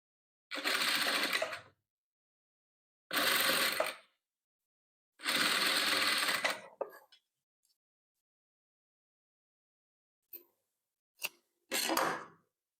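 Sewing machine stitching patchwork pieces together for a quilt, running in three steady bursts of one to two seconds each, followed by scattered faint clicks and a final short run; no talking.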